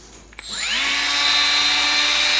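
A Milwaukee M12 Fuel 1/4-inch right angle die grinder spins up after a click and settles into a steady, high-pitched whine at its top 24,500 RPM setting, running loud and close without any talk.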